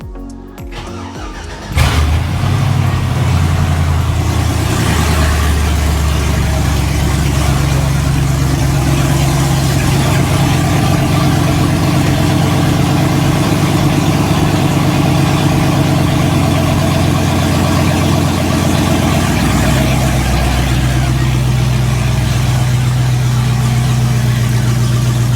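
An LS-swapped Jeep Grand Wagoneer V8 cranking and firing on a cold start, then settling into a loud, steady, close idle with a deep rumbling drone that holds for the rest of the clip.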